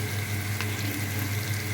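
Spices and asafoetida frying in hot oil for a sambar tempering, a continuous close sizzle with a steady hiss throughout and no talking.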